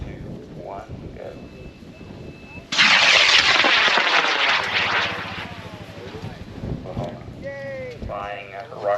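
A 1 3/4 pound scratch-built model rocket named Dark Knight ignites on an Aerotech H100 White Lightning motor with a sudden loud roaring whoosh that fades as it climbs, while onlookers talk and cheer nearby.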